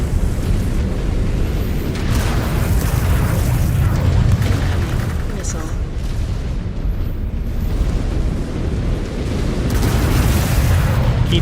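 Missile explosions in MechWarrior 5: Clans roll together into a heavy, sustained rumble of blasts, loud and close throughout.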